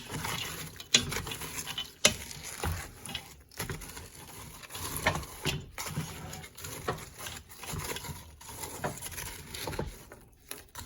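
A spoon stirs candy syrup in a pot over a fire, making faint, irregular scraping and patter with occasional knocks against the pan. No one speaks.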